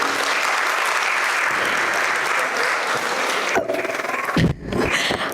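A large audience at a Kolkata book launch with author Amish Tripathi claps steadily in a dense, even wash of applause that continues throughout, ending with a brief dip near the close.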